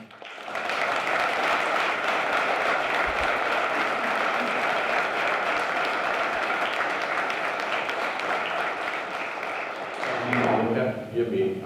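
Sustained audience applause at a William Herbert Johnson ceremony welcoming Thomas Johnson Sr., steady dense clapping for about ten seconds before it fades out as a voice begins.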